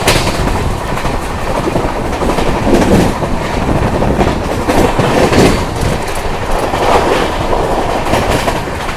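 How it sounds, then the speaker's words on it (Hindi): The 12809 Howrah Mail passenger train races at full speed, carriages rumbling loudly with a continuous rhythmic clatter of wheels on the rails, heard from inside the train. "ट्रेन हमारी बिल्कुल अपने फुल स्पीड से चल रही है।"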